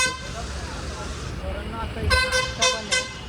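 Busy road traffic during a palkhi procession near Khalapur, with a steady low vehicle hum broken by several short, loud car horn toots in quick succession toward the end, alongside voices.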